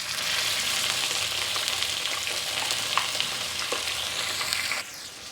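Chicken sizzles and fries in hot oil with garlic paste in a home kitchen, a steady dense crackle running close and loud throughout, with a few stir clicks, then the sizzle drops off sharply near the end.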